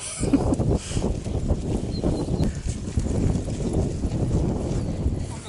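Pony hooves clip-clop steadily on a hard surface at close range, a continuous walking rhythm of small animals filling the whole stretch.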